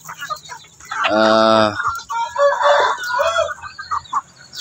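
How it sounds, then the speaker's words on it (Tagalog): Free-range native chickens: a close, loud rooster crow rings out, followed by scattered clucking and softer calls from the flock. "native chicken. So may nakadapo ditong isa."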